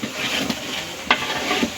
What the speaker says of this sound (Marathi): शेंगदाणे, आले भाजत फोडणी.